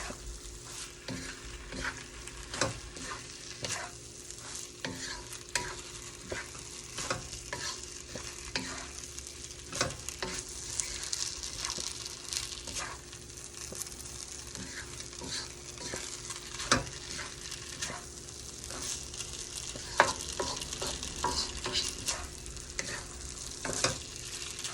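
Sliced tofu frying in a pan for chop suey, a steady close sizzle with frequent crackles and light stirring scrapes throughout, no talking.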